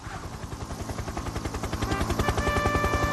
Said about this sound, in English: Just then, Harold the helicopter arrived.